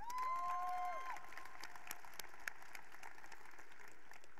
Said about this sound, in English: I want to give one more round of applause to Yasmin and Chris